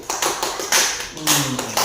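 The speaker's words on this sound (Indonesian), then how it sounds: "Kita kasih tepuk tangan dulu itu." Brief burst of hand clapping at a school teacher-training presentation, a few quick claps in rhythm under a voice, close and fairly loud.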